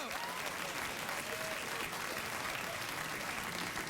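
Late-night television studio audience applause rolls on continuously, a dense, uniform roar of clapping with scattered cheers, steady in level throughout and heard at a moderate distance.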